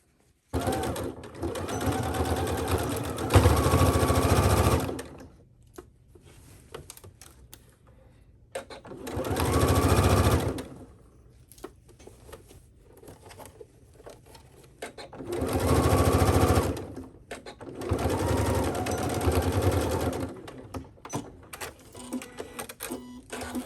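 Skirt pieces are stitched together on a sewing machine, heard as several loud, sustained runs of rapid needle clatter and motor hum, separated by quieter pauses filled with faint handling noise.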